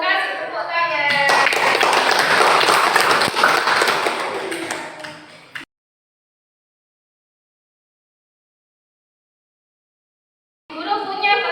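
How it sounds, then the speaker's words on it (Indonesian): Classroom of schoolchildren clapping for the best group, a dense burst of claps for about four seconds that fades out, followed by silence and then children's voices. "Kasih tepuk tangan."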